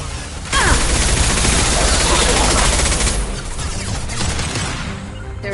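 A high-impact gunshot in Mass Effect 2, a loud sustained burst of heavy fire that erupts suddenly and rolls on with crashing mechanical impacts before tapering off.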